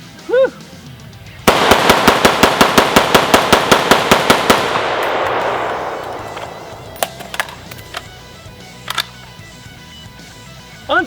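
A Century C308 battle rifle lets off a rapid string of about twenty loud, evenly spaced gunshots, then its echo fades before a few scattered metallic clicks and clatters; a bird-like chirp sounds at the start.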